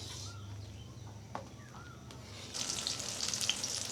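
Mas kalai dal cooks in a pot with a soft, continuous sizzle and simmer, fairly faint, rising slightly toward the end, with faint bird chirps in the background.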